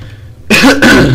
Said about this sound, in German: Boah, mein Husten, ey.